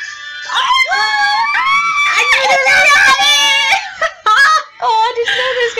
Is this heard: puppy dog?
yes